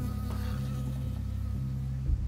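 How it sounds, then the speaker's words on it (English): Buzzing of an insect in the Firewatch video game, a steady low drone that holds through the clip with a small bump near the end, moderately loud and alone with no talk. "I got stung by a bee."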